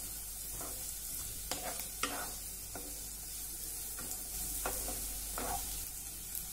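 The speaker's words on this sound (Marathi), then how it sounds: "मध्यम गॅसवर हे परतून घ्या।" Carrots and whole sweetcorn kernels sautéing in a pan over medium flame give a steady close sizzle, broken by a handful of sharp scraping clicks from a spoon stirring against the pan, with no voices.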